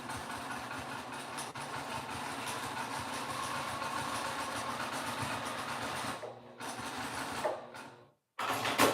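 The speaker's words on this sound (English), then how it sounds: "I'm gonna put a seam along this line" A sewing machine running a steady seam on a pillowcase, a continuous close whirring drone that stops briefly near the end, then falls silent for a moment and restarts.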